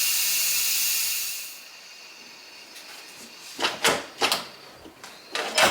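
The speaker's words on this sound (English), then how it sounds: "I'll give it a stir and then steam it again." An Instant Pot cooking bone stock vents a steady hiss of steam that fades after a second or so, followed by a few short knocks and clatters nearby.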